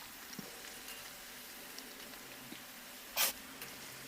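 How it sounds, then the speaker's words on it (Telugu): Sweet corn vadas deep-fry in hot oil, dropped in one by one, giving a steady soft sizzling hiss broken by a few faint pops and one brief sharp burst near the end. "ఒక్కొక్కటిగా ఆయిల్లో వేసుకుంటూ డీప్ ఫ్రై చేసుకోవాలి"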